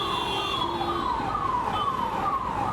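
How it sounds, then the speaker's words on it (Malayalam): A police or ambulance siren wails on a Delhi road at night, its repeating falling sweeps cycling about every half second, loud and near over a low traffic rumble. "എന്താണ് പോലീസ് ആംബുലൻസ് അത്"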